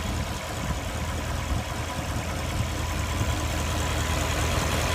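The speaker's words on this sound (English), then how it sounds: "Very impressive engine." A 2016 Porsche Turbo sits idling, giving off a steady, even engine hum with a broad airy rush and no revving, moderately close and unchanging for a few seconds.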